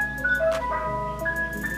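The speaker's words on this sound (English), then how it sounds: "the ice cream truck though" An ice cream truck passing by plays its steady tinkling chime melody over a constant low engine hum, close and clear for the whole stretch.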